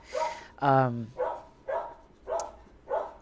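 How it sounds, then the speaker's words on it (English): A dog barks six times in a loose rhythm, the second a longer howling yelp, each bark close and fairly loud in an indoor room. "Sorry for the dog."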